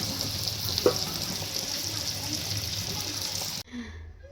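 Fish frying in a pan, a steady close sizzle with a brief clatter partway through, running continuously before cutting off abruptly near the end.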